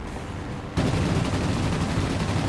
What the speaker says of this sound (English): my cannon had actually already overheated just from that short burst of fire